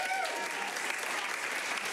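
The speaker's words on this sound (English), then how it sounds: "Round of applause if you knew that you were at Curious Comedy." A comedy club audience at Curious Comedy breaks into dense applause, loud and continuous for the whole stretch, with a few voices calling out near the start.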